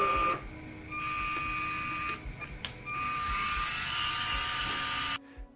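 A Lego Spike Prime motor spins with a steady high electric whine and tonal hum, pausing briefly and changing speed before stopping abruptly, close and alone.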